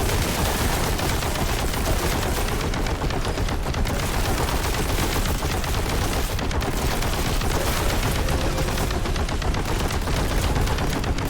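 Relentless rapid gunfire from the video game Warhammer 40k: Boltgun, a dense, loud, continuous barrage of overlapping shots and explosions with no pauses for over eleven seconds.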